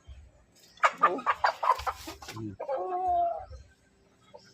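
A chicken clucks and squawks in a short burst close by, followed by a drawn-out call, with quiet background noise.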